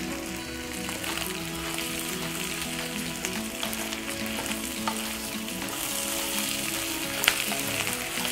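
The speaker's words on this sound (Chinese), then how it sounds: "洋葱可以放进来了， 现在可以大火了" Onions stir-fried over high heat in a pan give off a loud, steady sizzle, with scattered clinks and scrapes of a utensil stirring throughout.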